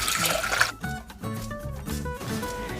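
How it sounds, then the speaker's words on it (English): Water poured into a saucepan, five cups' worth, with a brief rushing splash at the start, then soft liquid sloshing and resonant ringing from the pan; no talking. "We're going to place 5 cups of water into a saucepan."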